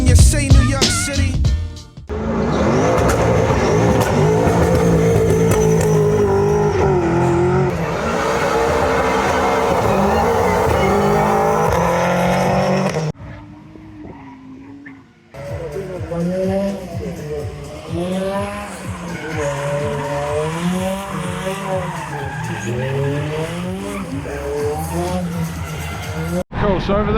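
Drifting cars at the Sonax Show&Shine car show: loud engine revving and rising, wavering tire squeal that runs continuously, then drops to a brief lull before resuming.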